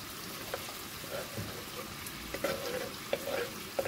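Onions and garlic fry in a pan for creamy cheese spaghetti with shrimp, giving a low, steady sizzle with a few soft stirring knocks, fairly quiet throughout.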